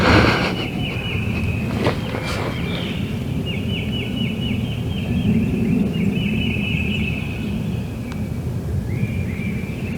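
A wild turkey gobbles in a Mississippi hunting spot, a distant rattling call repeated in short bursts over steady outdoor noise and wind, faint against the background.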